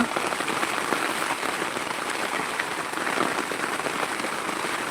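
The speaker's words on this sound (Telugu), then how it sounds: "వర్షం పడుతుంది" Steady, dense rain pattering on a surface, a continuous close hiss of drops with no voices.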